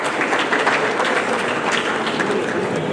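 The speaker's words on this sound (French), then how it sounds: "Sur scène, sous vos ovations" Steady, dense ovation from the audience at the Cauris d'Or awards ceremony, continuous loud clapping from many hands filling the hall throughout with no talk.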